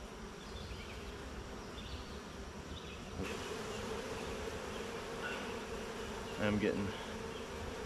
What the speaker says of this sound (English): bees kind of on me, which is not fun, but comes with the territory